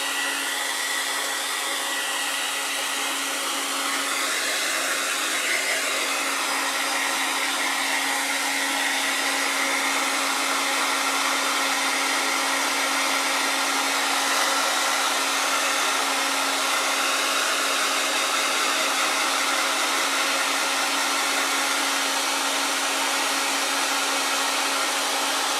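A hair dryer runs loud and unbroken at close range, drying Mod Podge craft glue on a floral centerpiece made from a grater, a steady whining blow with no talk.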